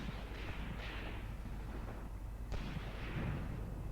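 Artillery and machine-gun fire rumble through a Graviteam Tactics battle set near Kharkov in 1942, heard as a faint, distant, continuous low roar with a couple of soft thuds and no talk.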